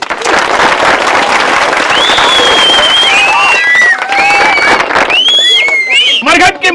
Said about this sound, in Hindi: इसी बात पर बजाओ ताली।